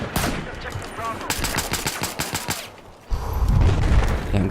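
Rapid bursts of automatic gunfire from the video game Battlefield 4 crack in a fast rhythmic string, followed by heavier distant booming and battle noise.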